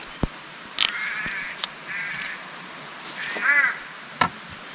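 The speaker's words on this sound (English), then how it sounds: "You hear the old crows in the background." Crows cawing outdoors in the evening at a wild camping spot by a creek, several harsh calls in separate short bursts over quiet background with a few sharp knocks.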